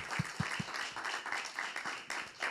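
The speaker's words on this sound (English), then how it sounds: "Give myself a round of applause." A community gathering about fathers and daughters claps in a brief, quiet round of applause, a soft continuous patter of many hands heard from a distance with a few closer claps early on.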